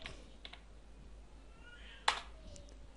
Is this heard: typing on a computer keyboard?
yes